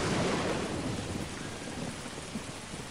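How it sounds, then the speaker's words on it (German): Steady heavy rain in the video game Don't Starve: Hamlet, a dense continuous hiss with a low rumbling undertone, constant and fairly loud with no speech. "Und es regnet immer noch."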